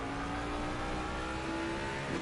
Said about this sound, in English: he's buzzing off the limiter in the Mustang, is Toby.